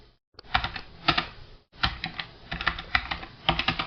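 Typing on a computer keyboard: a quick, uneven run of close, crisp key clicks in small clusters, with a short pause partway through. No speech is heard.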